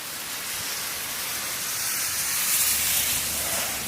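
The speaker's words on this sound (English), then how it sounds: "Looks like a moderate rain right now." Moderate rain falling outdoors, blown sideways on an overcast Sunday, heard as a steady soft hiss of broadband noise that swells slightly partway through, with no voices.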